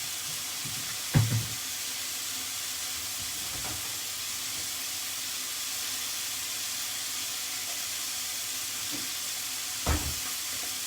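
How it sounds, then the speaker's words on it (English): Chicken salad being stirred together with smoked paprika and garlic, a steady soft hiss with a few brief knocks of a utensil against the bowl. "I'm going to mix things up as well."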